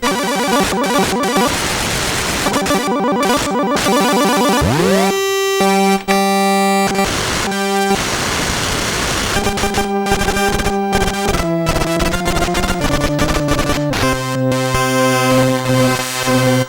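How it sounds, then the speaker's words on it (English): Harsh, buzzy chiptune tones from a Commodore 64 SID chip shift continuously between waveforms, with gliding pitches, stepping notes and bursts of noisy static, loud and unbroken throughout. "this knob actually changes the waveforms of all 3 waveforms on the SID chip"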